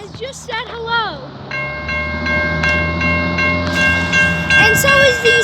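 Train arriving at Point Pleasant Beach station sounds its horn in short blasts, then holds a long, loud, steady chord over the rumble of the approaching train.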